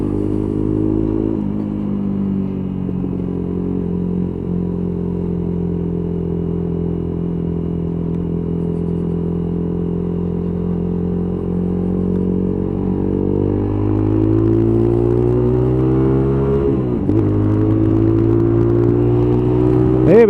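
A Lexmoto Tempest motorcycle on a ride test holds a steady buzzing engine note, then its pitch climbs as it accelerates, with a brief dip and rise near the end.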